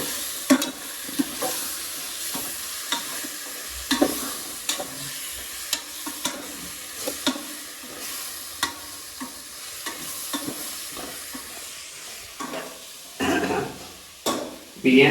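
A spoon stirs tomatoes sizzling in a frying pan for bachelor-style chicken biryani. It makes steady frying hiss with repeated scraping clinks against the pan, close and clear.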